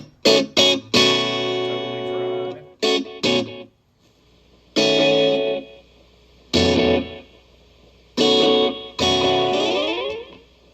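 Vintage Echolette NG51 tube tape delay unit processes short guitar-like bursts, each note trailing off in repeating echoes and reverb, with silent gaps between phrases.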